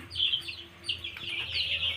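Chickens cluck and chirp softly while drinking water at a poultry drinker, a faint steady chatter of several birds close by with no talk.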